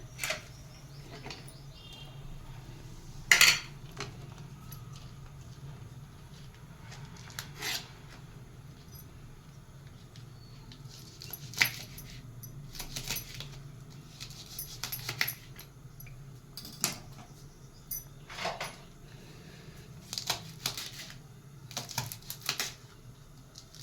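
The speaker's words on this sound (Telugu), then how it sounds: "ఈలోపు మనం పచ్చిమిరపకాయ తరిగేసుకుందాం" Green chillies being chopped with a knife in a kitchen, faint irregular cutting taps scattered over a low background hum, with a few sharper clicks standing out.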